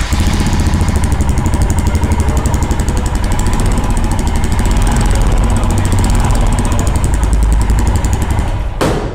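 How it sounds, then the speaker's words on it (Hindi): A Royal Enfield motorcycle engine runs loud and close with a steady, rapid thumping beat that holds for most of the clip, then cuts off sharply near the end. "आपको बाइक की साउंड है वो कैसी लगी"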